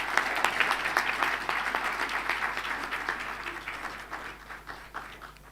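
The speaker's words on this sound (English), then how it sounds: "Another round of applause." A round of applause from guests at a magistrates' and judges' association anniversary event, crisp overlapping claps that gradually thin out and soften over several seconds.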